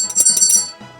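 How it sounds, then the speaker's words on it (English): A bell rings repeatedly in the Sega Saturn game Shining Force III, several bright metallic strikes in quick succession that ring out loud and close, then fade over about a second with no one talking. "This is the bell, by the way, that I'm referring to."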